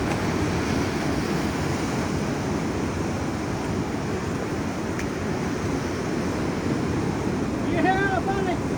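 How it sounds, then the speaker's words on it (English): Ocean surf at Black's Beach rolls in as a loud, continuous roar of breaking waves mixed with wind buffeting the microphone, steady throughout. "Just gonna watch out for the waves."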